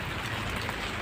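Steady rain pouring down outdoors around an Alocasia Amazon plant, a dense, even hiss that fills the whole moment with no voices.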